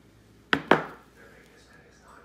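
Two sharp knife chops through squid on a cutting board, close and distinct, a quick pair of cracks followed by a short ringing tail and quiet kitchen background.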